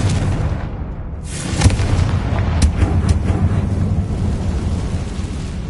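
A Confringo spell blast in Hogwarts Legacy, a deep rumbling boom with a few sharp cracks over a continuous heavy low roar, loud and close.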